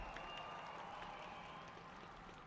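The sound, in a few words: applause from the home crowd at speed skating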